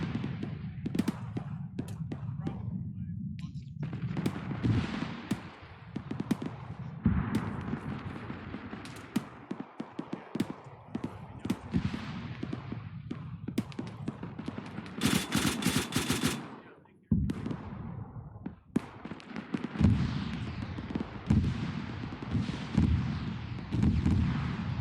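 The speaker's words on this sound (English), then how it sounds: "Is that the Apache shooting? That's it. Be advised, that's the Apache doing another strike." An Apache helicopter gunship strike in ArmA 3 brings bursts of rapid cannon and machine-gun fire and heavy blasts, loud and close, broken by brief lulls, with a sharp crackling volley near the middle.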